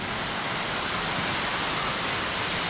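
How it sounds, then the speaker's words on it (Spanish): Heavy rain pours down outdoors during a strong windy storm as a steady, loud, unbroken hiss that fills the whole stretch with no pauses. "Miren cómo está la lluvia,"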